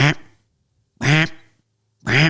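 A person imitates a duck with three slow, loud, nasal quacks spaced about a second apart, each short and separated by silence.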